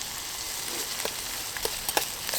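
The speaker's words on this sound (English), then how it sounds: "stir frying things" Steady broadband sizzling from a hot hard-anodized Trangia 27 pan used as a wok for stir-frying noodles outdoors, with a few faint clicks and scrapes of stirring scattered through it.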